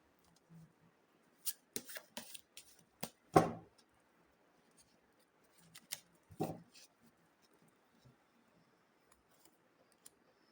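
Tarot cards being shuffled and handled, heard as quiet, scattered bursts of soft riffling and tapping with short pauses between them in an otherwise hushed room.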